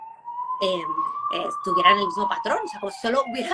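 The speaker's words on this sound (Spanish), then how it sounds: "Perdona que está pasando una ambulancia." An ambulance siren passes by outside as a steady, slowly rising and falling wail, heard under continuous Spanish conversation throughout.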